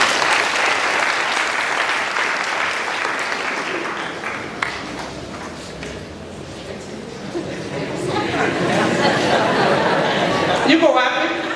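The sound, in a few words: audience clapping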